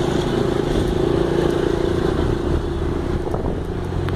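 A 50cc motorcycle engine revs with a steady, buzzing, high-pitched drone that stays loud and close throughout, with a few small rises and no speech.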